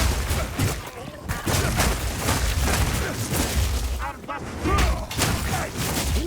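Repeated explosive bursts and rumbling booms from combat in the action RPG Path of Exile 2, dense and loud, with someone speaking over them.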